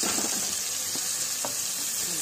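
Onions fry in oil and ghee in a pan with an even, close hiss and a few soft crackles and clicks.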